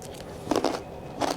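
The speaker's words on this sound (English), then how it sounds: "That crunch, it's phenomenal." Two crisp bites into a crispy smashed potato, each a short, close crackling crunch, separated by a pause, in an otherwise quiet room.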